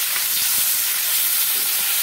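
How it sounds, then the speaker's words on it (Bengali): Rohu fish pieces fry in hot oil over a medium flame, giving a steady, close, broadband sizzle that holds evenly for about two seconds with no voices. "এভাবে মাছগুলোকে আমি ভেজে নিচ্ছি,"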